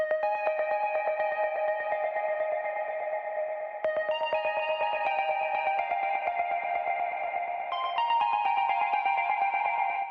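Trance synth counter melody from an Anjuna-style breakdown, played alone: a bright, steady run of rapid plucked notes drenched in echo and effects, continuous and loud for about ten seconds with a small step up in pitch midway.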